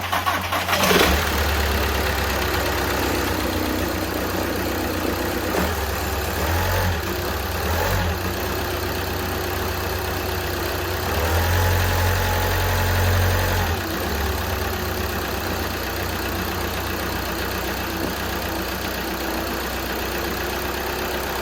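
A 2011 VW TDI diesel engine cranks and fires up after a dual-mass flywheel clutch job, then settles into a steady, close idle with one brief rise in revs midway.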